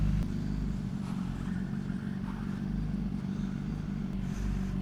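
A motorcycle engine idles steadily just after a first-kick start following three months of sitting, a loud, close, continuous low rumble with no speech.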